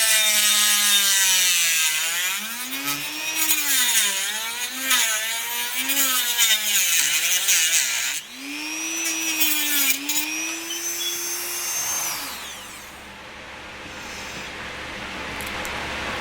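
A cutting wheel grinds through Primochill rigid tubing in a loud, continuous whirring rasp that rises and falls in pitch as pressure changes, then winds down to a quieter hiss near the end.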